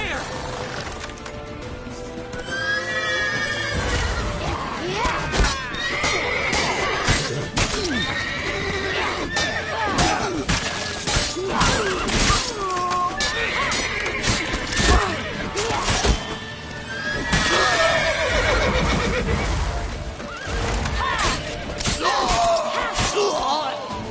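A horse in the video game The Witcher 3 neighs and whinnies repeatedly over loud battle music, hoofbeats and crashing effects, while voices shout across the scene.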